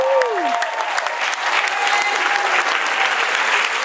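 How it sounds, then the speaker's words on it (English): A convention Q&A panel audience claps and cheers steadily for several seconds, a dense, loud burst of applause with a brief shout at the start. "can we cheer for Darren"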